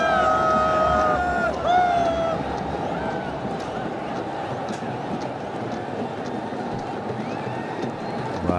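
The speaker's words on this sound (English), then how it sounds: "Very expressive crowd." Crowd at a Pakistan vs Sri Lanka ODI cricket stadium, a steady roar of babble and noise from the stands with whistles and horn-like tones early on, under a speaking voice.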